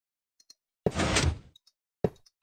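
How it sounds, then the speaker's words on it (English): A Minecraft piston extends with a single hollow mechanical whoosh lasting about half a second, then a shorter sharp thunk follows. Both sounds are close and clear over silence, with no talk. "this creates an expanded piston"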